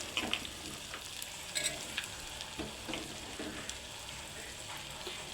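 Carrot pieces frying in a pan with softened onions and turmeric give a soft, steady sizzle with small crackles and occasional light stirring taps, faint and without talk.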